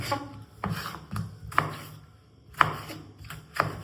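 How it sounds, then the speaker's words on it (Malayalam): Knife chopping tomatoes on a cutting board for rasam, a few close, distinct cuts spaced about a second apart with soft rubbing between, no talking. "എങ്ങനെ വേണമെങ്കിൽ കട്ട് ചെയ്യാം തക്കാളി"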